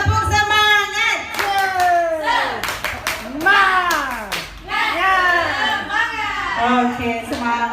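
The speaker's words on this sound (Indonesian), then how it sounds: "Tepuk semangat." A group of teachers does a spirited rhythmic clapping chant: bursts of hand claps punctuate loud, sing-song group voices chanting together up close.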